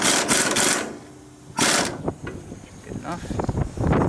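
A wrench or pliers tighten a sway bar end link nut during a Ford F-150 front leveling kit install, giving rapid close clicking and ratcheting bursts separated by short pauses and mixed with some talk.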